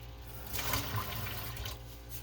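Water poured from a measuring cup while making English muffins: a steady, close liquid pour that swells for about a second and then trails off.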